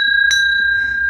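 A small hanging bell swings and rings once, giving a clear sustained tone with a bright overtone that lingers and fades slowly across the whole moment, with a soft knock partway through.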